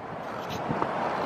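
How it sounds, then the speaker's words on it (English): Steady wind buffeting a microphone on a city apartment rooftop, a continuous broadband rush with slight gusts throughout the short stretch. "It's windy up here"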